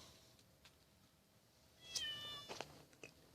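Pet cat outdoors near a house, a soft distant meow followed by a clearer nearby meow and a few faint chirps against quiet background.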